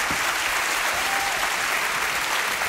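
Studio audience applause on a French television talk show, dense and loud, holding steady throughout with no break.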